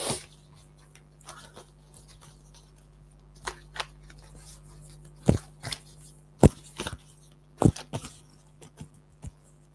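Tarot cards being shuffled by hand, bursts of crisp riffling and sharp snaps in irregular clusters, close and fairly loud over a low steady hum.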